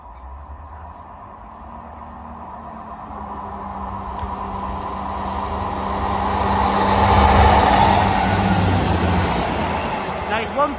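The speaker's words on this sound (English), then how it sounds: "Passing through now is a ScotRail service from Perth to Edinburgh Waverley" ScotRail passenger service from Perth to Edinburgh Waverley passing through Dalmeny station, a steady rumble and rail hum building to a loud peak around the middle before easing, with a voice talking over it.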